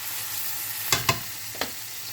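Sausages simmering in onion gravy with butter in a pan give a steady low bubbling hiss, with a few louder pops and splutters standing out near the middle.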